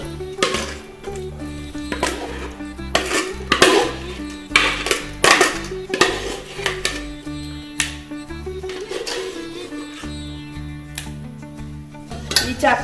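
Juicy jackfruit pieces being kneaded together with flour in a bowl for jackfruit appam, with repeated clinks and scrapes against the bowl over steady background music.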